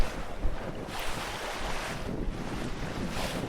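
Wind buffets the microphone over choppy, rough water as a boat crosses a sandy river weir between Sharpness and Maisemore, with a northeast wind running against the falling tide; a steady roar with gusty swells, no voices.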